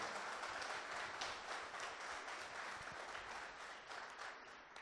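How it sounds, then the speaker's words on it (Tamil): Sustained hand clapping from a congregation at a Tamil Christian retreat fills the hall, dense and steady throughout with no distinct talk on top. "ஜோராவது கைத்தட்டி, ஜோராவது கைத்தட்டி."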